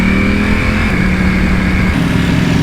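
A Ducati Panigale V4R track motorcycle ridden through city streets: a loud, close, sustained engine drone whose pitch steps up partway through.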